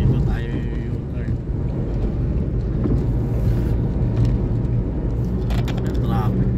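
Road traffic in Caloocan with a large truck passing: a steady, loud low rumble of engines and tyres throughout, with faint brief higher noises near the end.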